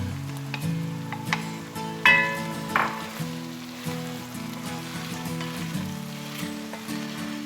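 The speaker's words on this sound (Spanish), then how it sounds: "agregar el puerro y los ajos y mezclar toda la preparación" Onion, leek and garlic sizzle steadily in a frying pan, with a few scraping stirs of a utensil and soft clinks, close and fairly loud, without talk.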